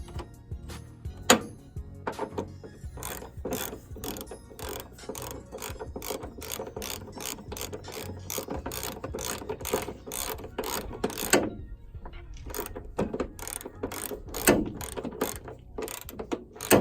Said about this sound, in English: let's go ahead and bolt these back on and see how it sits